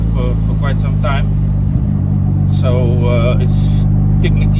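Honda B18C turbo sleeper car driving on the road, a steady low engine drone running throughout, with people talking over it inside the car.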